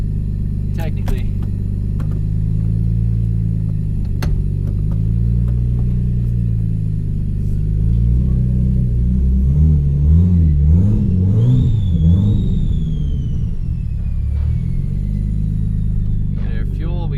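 A Nissan Skyline engine runs on a dyno, a loud steady idle rumble swelling into several revving bursts midway before settling back, with voices talking over it.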